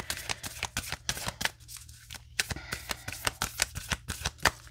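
Oracle cards from the Whispers of Love deck are shuffled close up in quick repeated riffles and slaps, a dense rhythmic run of crisp papery snaps with short pauses.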